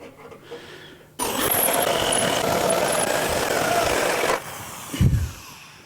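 A step drill bores into the hinge end of a door: a loud, steady power-tool whine with a harsh grinding edge runs for about three seconds, then cuts off, followed by a brief clunk.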